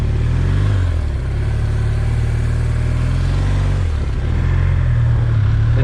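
A police motorcycle runs at motor school with the clutch and throttle worked smoothly. The engine growls loud and close in a steady drone that dips and then swells with throttle changes.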